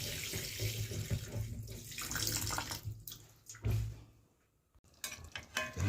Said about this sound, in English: Run some fresh, clean, pretty water on it,